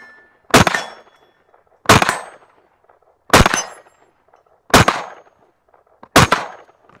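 Five loud rifle shots fired live at night, evenly spaced about 1.4 seconds apart, each a sharp crack with a ringing tail and silence between.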